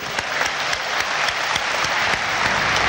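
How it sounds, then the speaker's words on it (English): Audience applause fills the hall after a lecture remark, a steady dense clatter of many hands clapping at close range with no voices over it. "I think we should give them an applause."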